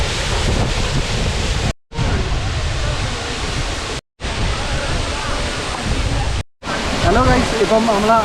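The lower falls of Aruvikuzhi waterfall in Pathanamthitta give a loud, broad, steady roar of falling water, close to the microphone with some wind buffeting. Faint children's voices drift in toward the end, and brief silent gaps break the roar.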